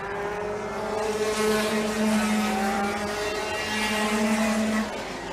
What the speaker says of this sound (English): the cars are quite loud up here in the pits